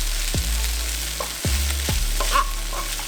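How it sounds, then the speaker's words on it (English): Rice stir-fried with soy sauce in a pan for garlic butter fried rice, a steady sizzle broken by several loud spatula scrapes and tosses, close and without talk. "Add in the rice. And we'll add in a 1/2 teaspoon of soy sauce."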